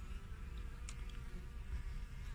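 Honeybees buzzing at a beehive in winter, a faint, steady, continuous hum of many insects with no voices.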